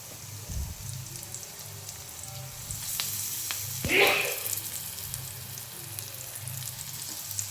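Slices of elephant foot yam fry in hot oil with curry leaves, sizzling steadily throughout, with a brief louder crackle as pieces drop in.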